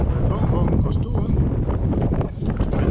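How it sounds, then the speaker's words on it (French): Strong wind of about 15 knots on the Guadiana river, a steady broadband roar buffeting the microphone throughout, loud and close, with faint rustling and possible boat or water noise underneath. "il y a du vent, là il y a 15 nœuds de vent"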